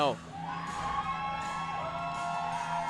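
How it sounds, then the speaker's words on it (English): Crowd noise from spectators at a summer collegiate baseball game, Rockford Rivets at Kalamazoo Growlers, swelling into a sustained, loud roar of cheering and whooping that carries steadily throughout. "The crowd begins to go crazy for no apparent reason"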